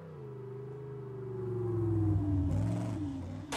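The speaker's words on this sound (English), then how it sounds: "that truck sounds good" A truck engine in the demolition racing game Wreckfest revs with a steady mid-pitched drone that climbs and swells over a few seconds, then drops off sharply, with no voices over it.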